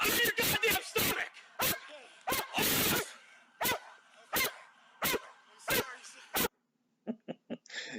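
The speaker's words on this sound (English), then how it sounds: "You gotta love a canine dog" A police K9 dog barks loudly and close in a rapid series of sharp barks, with a brief pause and a few softer yips near the end.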